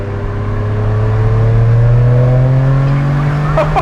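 Ferrari 456M GT Scaglietti V12 pulling hard under acceleration, a loud steady engine drone with harmonics rising smoothly in pitch over about four seconds, heard from inside the cabin.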